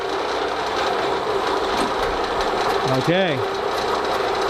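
AC electric motor spinning at about 1789 RPM, a steady close hum and whir running throughout, with a brief spoken word over it.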